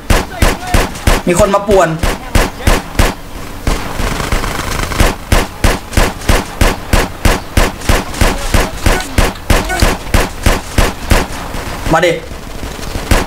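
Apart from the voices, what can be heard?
gunfire in the video game GTA San Andreas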